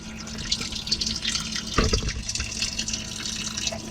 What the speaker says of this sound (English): Looks like it had a lot of water in there still.